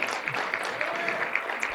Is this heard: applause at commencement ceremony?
yes